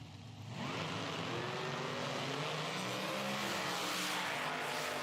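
A supercharged 1932 Bantam nitro drag car with a Roots-type blower roars at full throttle down the strip, a loud continuous engine blast that swells in after a brief opening and holds steady, with no voices.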